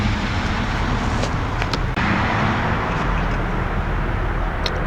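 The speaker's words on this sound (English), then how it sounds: "two cars. I don't know if you can hear them pass by." Passing cars on a road make a loud, continuous roar of tyres and engines close by, with traffic noise throughout and no clear separation between the two vehicles.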